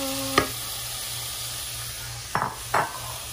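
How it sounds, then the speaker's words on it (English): Ground beef sizzles in a pan with caramelized onions and browned garlic, a steady hiss with a sharp clatter early on and two more utensil knocks near the end. "we're going to add our ground beef to our caramelized onions and browned garlic"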